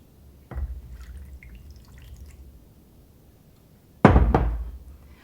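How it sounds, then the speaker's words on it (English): Three-quarters of a cup of warm water poured into a baking dish of apples, a brief low splash early on, then a louder, sharper pour near the end, close by with no talking. "we're going to add our 3/4 cup of warm water to the baking dish"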